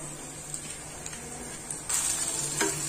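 Chopped tomatoes tipped into hot ginger-garlic paste for pepper chicken, giving a sudden sizzling burst partway through after a quieter frying hiss, close up and with no talk.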